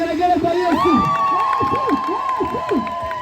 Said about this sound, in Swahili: Nifikie shangwe na vigelegele kwa Yesu.